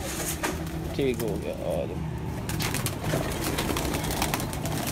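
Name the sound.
pigeons cooing on a rooftop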